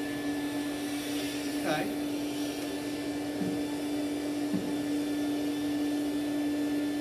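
A mini vacuum cleaner running with a steady, continuous motor hum and whine throughout, close and even in level, with a person briefly speaking over it.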